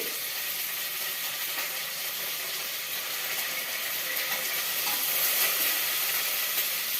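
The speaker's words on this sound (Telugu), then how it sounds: "ఇందులో ఎండు మిరపకాయలు వేసేసుకోవాలి ఎండు మిరపకాయలు వేసుకున్న తర్వాత కరివేపాకు కూడా వేసేసుకోవాలి" Dried red chillies and curry leaves fry in hot oil for a papaya pulusu, giving a loud, steady sizzle and crackle that holds without a pause and swells slightly near the end.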